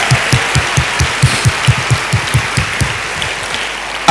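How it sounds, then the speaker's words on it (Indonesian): A church congregation applauding enthusiastically during a sermon, loud and close, with strong clapping falling into a quick, steady rhythmic beat throughout. "tepuk tangan yang semangat."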